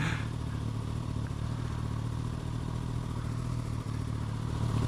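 A motorcycle ridden through London streets hums steadily with a constant low engine drone and road rumble, close and unbroken, with no talking over it.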